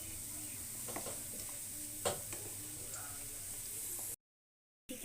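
Wheat flour sweets frying in hot oil, a quiet, steady bubbling sizzle with a few small clinks of stirring, ending in a brief moment of silence.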